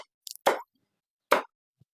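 Shrimp paste (alamang) dropped into a hot cooking pan, giving two short, soft plops close by with brief quiet gaps between them.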